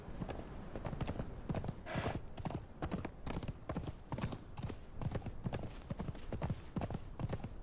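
Horse hoofbeats while riding in the video game Conan Exiles: Age of War, a continuous fast clip-clop gallop with quick, even strikes at moderate level and no talking over it.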